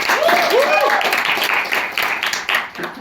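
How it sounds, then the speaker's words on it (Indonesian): Applause for Irwan from a classroom of students during a microteaching lesson, a dense patter of clapping with voices and cheers mixed in, tapering slightly toward the end. "Tepuk tangan dulu buat Irwan"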